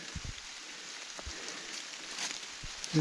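Soft, steady rain patters faintly in a forest, with scattered light drops and a few gentle thumps.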